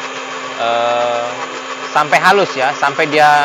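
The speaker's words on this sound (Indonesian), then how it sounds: "Nah, ini mulai kita blender ya." A blender mixes cheese gabus cake batter with a steady electric whine, and someone talks over it.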